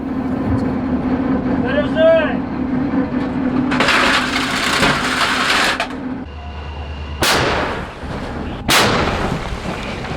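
A field artillery gun fires shells, giving two sharp, loud blasts near the end with rumbling decay, after a stretch of roaring noise and background chatter of voices.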